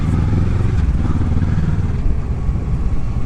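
Kawasaki motorcycle engine rumbles steadily at low revs while riding on the road, a close, continuous throaty drone with no distinct gear-change clunk and no speech.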